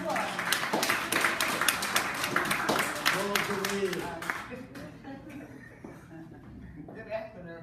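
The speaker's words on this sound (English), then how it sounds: "Give her a round of applause." Audience at a senior center poetry recital claps loudly for a poet, dense applause that thins out and fades over several seconds, with a few voices murmuring underneath.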